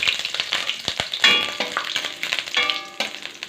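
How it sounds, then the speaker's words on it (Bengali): Whole cumin seeds crackle and sizzle in hot oil up close, with stirring scrapes and small pops over a busy, fizzing hiss. "তেলটা গরম হয়ে গেছে, দিলাম জিরে ফোড়ন, দিয়ে দিলাম, দেওয়ার পর এটাকে একটু আমি নেড়ে দেবো।"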